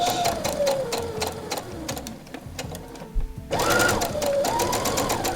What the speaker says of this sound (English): leave long tails at the end of the thread and sew a big long stitch